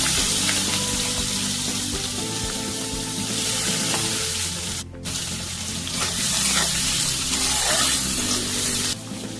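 Chopped onions frying in hot oil with bay leaf, cardamom, cinnamon and cloves for a mutton dish, a loud steady sizzle with crackling spatter and some clinking, briefly cutting out twice.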